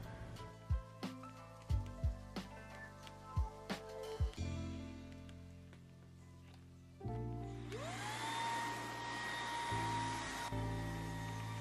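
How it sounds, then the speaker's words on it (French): Cordless stick vacuum cleaner with a double-roller main brush, switching on partway through with a steady whine and rising motor tone after some earlier knocks and music-like tones. "sur la brosse principale, ce qui est cool, c'est qu'il y a un rouleau double qui permet vraiment d'aspirer sur n'importe quel type de sol"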